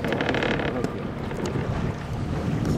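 A small boat's motor runs steadily beneath strong wind buffeting the microphone, with waves and splashing sounds around it.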